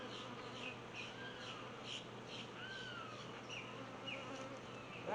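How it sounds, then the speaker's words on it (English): A low, steady drone of many honeybees buzzing nearby, with occasional faint bird calls in the background. "I have to knock all these bees off"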